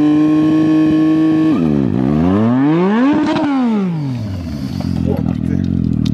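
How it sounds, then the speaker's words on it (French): A motorcycle engine idles steadily, then revs hard up and down in loud sweeping surges during a rear-wheel burnout attempt, ending in rough, uneven engine noise. "Le concept est d'accélérer et de freiner en même temps pour faire de la fumée avec la roue arrière"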